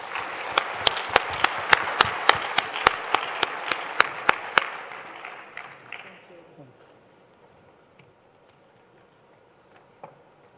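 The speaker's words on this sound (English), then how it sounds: "give a hand of applause for all the presenters" A conference audience applauds presenters after final startup pitches, steady clapping with sharp claps on top for about six seconds before fading to quiet room noise.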